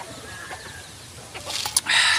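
Backyard chickens give a few short clucks and chirps, moderately close, followed by a brief burst of flapping or rustling near the end.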